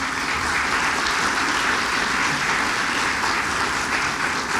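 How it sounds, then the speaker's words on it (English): Steady, dense applause from a crowd at a county candidate forum fills the room, a continuous wash of many hands clapping at even loudness throughout. "Let's give them all a big round of applause."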